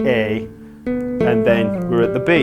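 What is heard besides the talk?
No everyday noises stand out.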